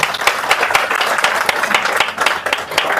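An audience claps together indoors at a direct-selling business meeting, a dense, steady patter of many hands that fills the room for the full few seconds without pause.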